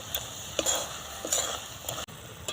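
Carrot halwa with raisins and cashews being stirred in a pan, a few soft scraping strokes of a spoon against the pan over a low background of faint sizzling.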